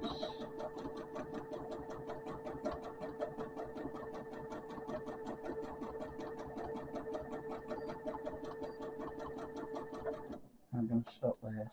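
A sewing machine stitches strips for a rail fence quilt, running fast with a steady, even mechanical chatter close by for most of the time, then stopping as a few handling sounds follow.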